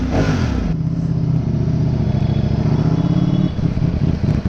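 A Ducati motorcycle engine drones steadily while riding on a rough road, loud and close throughout, with a revving burst at the start and clattering texture over the low throb.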